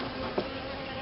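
Honeybees from a swarm hive being re-queened buzz steadily and closely throughout, a dense continuous drone with one brief louder swell near the middle.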